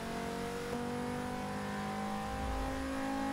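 Engine of a VW Golf in the Forza Motorsport 6 racing game, a steady droning hum with a rising whine as it moves past, continuous over the whole stretch with no talk.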